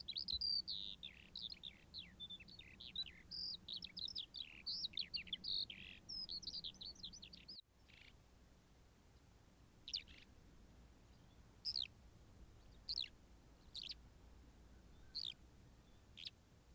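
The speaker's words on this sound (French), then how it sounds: "Ici c'est le pinson des arbres." A common chaffinch sings in a snowy field, starting with a dense, rapid run of high chirps and twitters. Sparser single calls follow after a brief break, faint and somewhat distant, with no voices.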